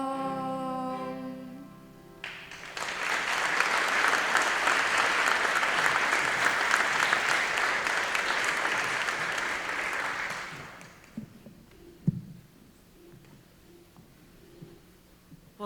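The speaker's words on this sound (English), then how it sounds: "Can we give them another round of applause?" A crowd claps warmly after 4th and 5th grade schoolchildren finish singing, starting abruptly and holding a full, steady round for about eight seconds before fading to scattered claps and room noise.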